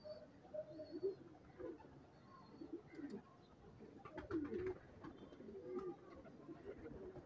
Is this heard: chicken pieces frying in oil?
no